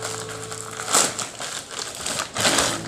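Plastic packaging crinkles and crunches as a parcel holding a ring light and facial vacuum cleaner is opened indoors, close rustling bursts with brief pauses, no speech over it.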